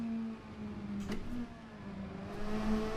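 A game car engine drones steadily, with a low hum that rises and falls slightly and a short high whoosh partway through, faint and alone without talk.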